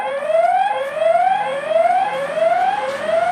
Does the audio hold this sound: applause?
no